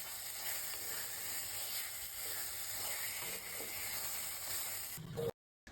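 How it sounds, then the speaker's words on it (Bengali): Turnip paste sizzles and hisses steadily in a pan as it is stirred and fried to dry out its water, a faint continuous frying sound that cuts off abruptly at the end. "কিছুক্ষণ এটিকে নাড়াচাড়া করে নিতে হবে যতক্ষণ এটির থেকে জলটা না শুকিয়ে যায়।"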